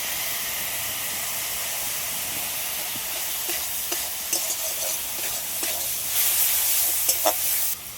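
Onion and tomato fry in a pan with a steady sizzle and hiss, a few soft stirring clicks and taps rising toward the end, with no talking.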